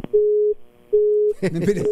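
Telephone busy tone after a call is abruptly hung up: two steady beeps cut in on a quiet line, then a voice starts talking over the end.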